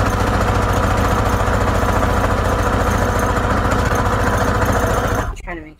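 A sewing machine stitches over laces on a junk journal made from a Reader's Digest book, a loud, steady, buzzing motor run that stops abruptly near the end.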